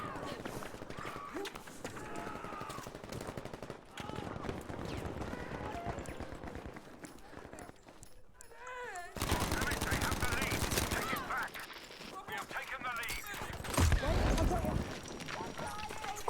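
An SMG fires from the hip in Battlefield V, rapid automatic bursts of gunshots coming in several volleys amid game noise, with a voice talking over parts of it.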